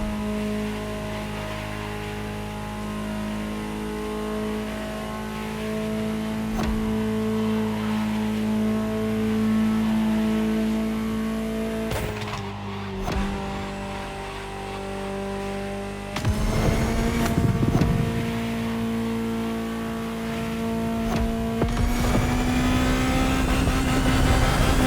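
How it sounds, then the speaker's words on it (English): A Ferrari supercar engine in the video game The Crew Motorfest hums steadily, then revs hard with rising, roaring pitch sweeps near the end, loud and close. "Just listen to the car you're driving."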